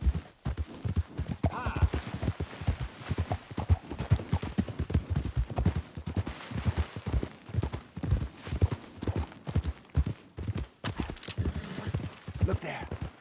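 Hoofbeats of a galloping horse in Red Dead Redemption 2 beat in a fast, steady clip-clop rhythm close by, while people talk over them.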